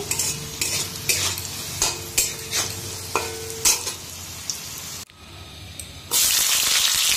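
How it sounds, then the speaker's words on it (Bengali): Small potato pieces for lote fish frying in oil, a close crackling sizzle with rhythmic stirring scrapes about every half second, then a louder burst of hiss at the end. "এই দেখো লোটে মাছের জন্য ছোটো ছোটো করে আলু কেটে ভেজে নিচ্ছি"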